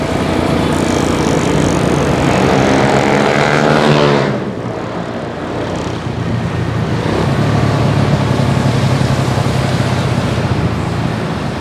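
Motorcycle being ridden at night with an aftermarket exhaust, a steady loud engine drone mixed with heavy wind rush, dipping briefly around the middle as the engine eases, then resuming at a constant level.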